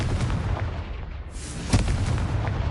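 A Confringo blast spell goes off in the Hogwarts Legacy video game, a loud booming burst over a continuous rumbling backdrop of combat noise, heard alone without talking.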